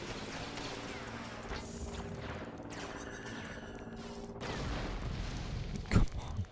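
A bomb blows up in the Lego Star Wars video game, with a sharp blast near the end that follows a stretch of layered gunfire, crashes and rumbling battle effects.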